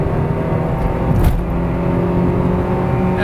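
An Acura Integra engine with a new exhaust header pulls hard while accelerating, a loud, throaty exhaust drone rising steadily, heard from inside the car.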